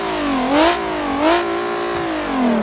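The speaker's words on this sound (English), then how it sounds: "your engine sounds much better" A car engine in a driving game revs up and down in smooth, repeated waves, a steady synthetic drone with no talking.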